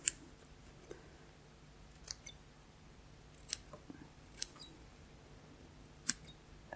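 Scissors snip embroidery thread on a hoop, giving a handful of short, crisp cuts spaced unevenly over several seconds in a quiet room.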